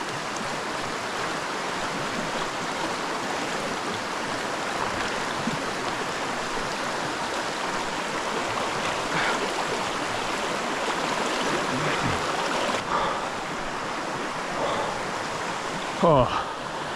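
A flowing stream rushes as a continuous broadband wash of water close by, outdoors, on a turkey hunt in Washington, with a brief bump near the end.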